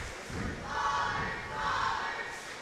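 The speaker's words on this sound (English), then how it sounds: "You might be able to hear them cheering in the background there," Cheerleaders cheering in a gym at a girls basketball game between Macomb and Illini West, a rising and falling wash of chanting voices in the background with muffled thuds, moderately loud and sustained across two swells.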